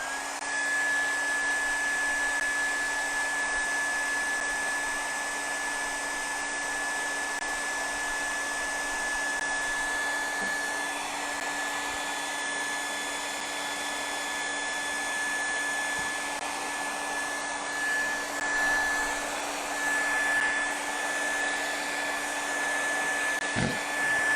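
A hair dryer blows on a watercolor painting in a steady, loud continuous whir with a constant tone that holds unbroken for the whole stretch.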